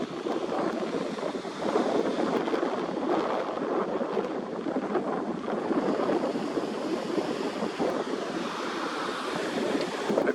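Ocean waves about four to five feet high breaking, a steady roaring surf wash with wind noise buffeting the microphone, continuous and fairly loud.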